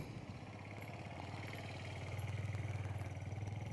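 A motorcycle engine idles with a steady low rumble, then revs up and grows louder and more pulsing toward the end.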